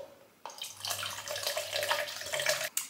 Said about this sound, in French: Je vais mettre de l'eau glacée parce que je préfère